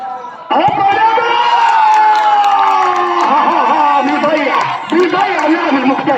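Football crowd at a penalty shootout roaring and cheering loudly, a sustained wall of voices that erupts suddenly and stays intense, with shouts and chatter swelling and a commentator speaking over it.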